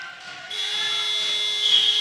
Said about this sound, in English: Buzzer in a few seconds will put the Aussies out of their misery.